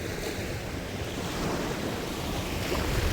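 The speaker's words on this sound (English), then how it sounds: "is whipping up these waves." Wind-whipped ocean waves washing onto a beach, a dense, continuous rushing roar with wind buffeting the microphone, steady and fairly loud with no voices.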